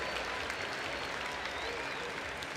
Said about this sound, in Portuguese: E o mais aplaudido, hein, por enquanto.